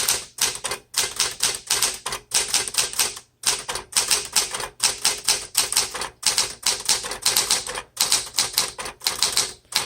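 Someone types steadily on a metallic green 1970 Smith Corona Classic 12 manual typewriter, with rapid bursts of crisp key strikes separated by short pauses. The clacking is loud and close, with no voices.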